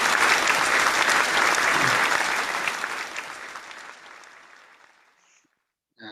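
An audience applauds at a Thai event honoring guests, a dense, loud wash of clapping that gradually fades out to near silence, followed by a faint noise at the very end.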